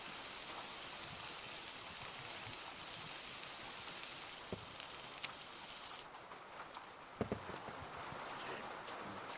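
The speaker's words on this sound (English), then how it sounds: "frying a sausage in beef tallow is probably the most American thing you can do" Soft continuous sizzle of a sausage frying in beef tallow in a video game kitchen, faint and steady with a few light pops and clicks, no talking.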